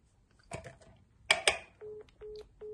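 A phone call is dialed: a few clicks and taps, then two quick keypad tones followed by a series of short, evenly spaced ringing or signal tones, fairly faint and close.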